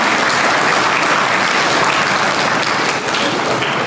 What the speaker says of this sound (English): Can we have a huge, loud, thunderstorm round of applause for everyone?